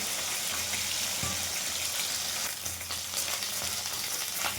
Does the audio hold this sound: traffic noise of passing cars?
no